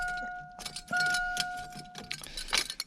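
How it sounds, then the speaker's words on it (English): Car keys jangling near an 87-93 Mustang Foxbody, a string of bright metallic clinks and rattles in short bursts, loud and close, with a faint steady tone underneath and no talking. "So I'm going to go ahead and grab these keys."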